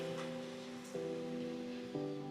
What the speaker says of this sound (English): Sorry about the noise, but the 3D printer's working away there